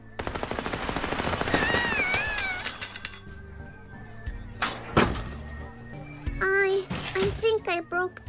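Rapid bursts of gunfire in the video game Little Misfortune, loud machine-gun-like rattles mixed with cartoonish game sounds and a voice.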